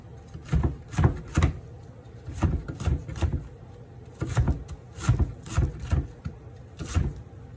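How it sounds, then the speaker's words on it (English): A knife chops through leftover onion on a cutting board, making a steady run of crisp, sharp knocks in short clusters of two or three, close and clear against a quiet room. "So I have this much onion. This is left over from something, but I'm just gonna cut this all up."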